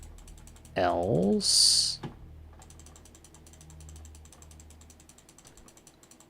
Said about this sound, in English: Oh, that was from clicking the door.